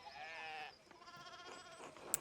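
Sheep bleating in the video game Pentiment, a drawn-out wavering bleat followed by softer, shakier calls, faint and fairly close against quiet ambient background.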